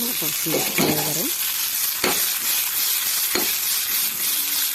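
Bottle gourd frying in a pan gives a steady broadband sizzle throughout, with a few brief tonal clatters and sharp scraping strikes as the pieces are stirred.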